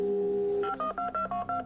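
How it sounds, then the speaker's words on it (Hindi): A phone-a-friend call is placed on a quiz show: a steady dial tone, then a quick run of electronic keypad tones beeping in short, regular pulses, clear and close with no voices. "केतना को फोन लगाया जाए प्लीज"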